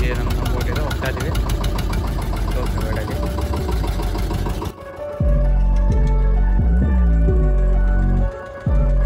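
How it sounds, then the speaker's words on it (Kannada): A boat engine runs during a trip near Apsarakonda, Honnavar. A loud, dense drone with voices gives way midway to a throbbing, knocking engine rhythm with sharp rising whines. "ನಮ್ಮ ಬೋಟ್ ಇದು ಹೋಗ್ತಾ ಇದ್ದೀವಿ."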